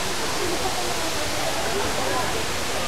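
Daranak Falls in Tanay, Rizal pours down in a loud, steady rush of water, a constant broad roar close by, with people talking over it.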